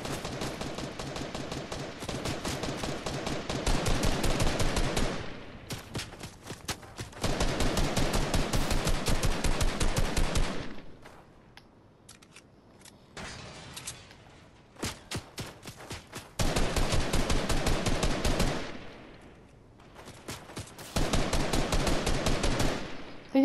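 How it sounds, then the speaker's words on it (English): Automatic gunfire in the video game Fortnite, with long rapid bursts of shots separated by quieter stretches, loud and close with a few scattered single shots between volleys. "Getting shot again from up top."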